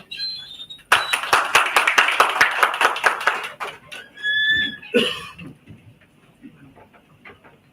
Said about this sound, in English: A round of applause for Professor Ishan Bose, sir.